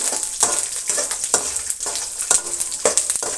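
Peanuts and chana dal frying in oil for a chitranna tempering, sizzling steadily while a spatula stirs and scrapes in regular strokes about every half second, close and without talk.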